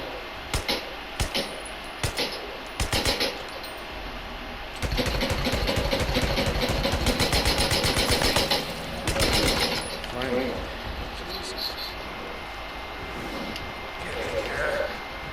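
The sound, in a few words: motorcycle engine idling in video game Days Gone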